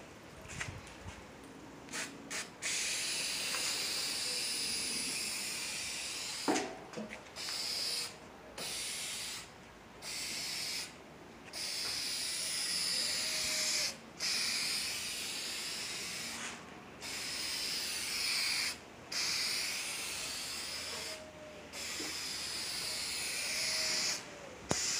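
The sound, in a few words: rattle can spray paint second coat on a car fender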